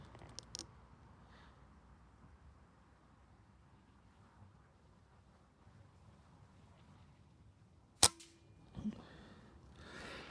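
BSA Goldstar SE air rifle firing at a target, two sharp, isolated cracks separated by several seconds of near silence, the second followed by a brief metallic ring.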